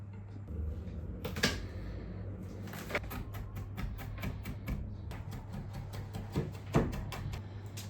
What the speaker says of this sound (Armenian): Կտրատում ենք սխտորը։